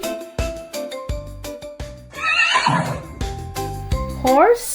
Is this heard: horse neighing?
yes